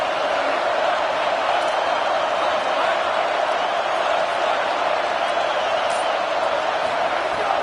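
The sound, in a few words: home crowd noise at football game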